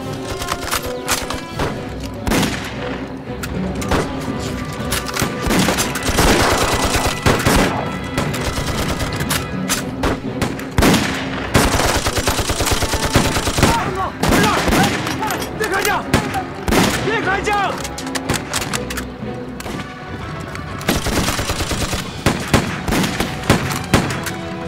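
Dense, loud gunfire and rapid machine-gun bursts from a battle between Chinese fighters and Japanese troops in an anti-Japanese war sniper film, rattling almost continuously for the whole stretch with brief louder volleys, mixed with film score and scattered voices.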